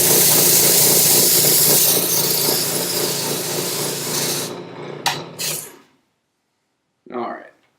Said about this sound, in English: Just use this foam sanding block on it to smooth it out a little bit.